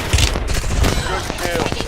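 Video-game gunfire in an online multiplayer match: dense, rapid shots crackle steadily for about two seconds, loud and close, with what may be a faint voice underneath.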